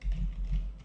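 Brief soft typing on a computer keyboard while entering code, a couple of muffled keystroke clusters close by, no talking.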